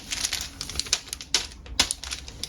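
A bag of plastic tabletop gaming dice rattles and clicks in a quick, uneven run of sharp little knocks, close up and moderately loud, with no voice.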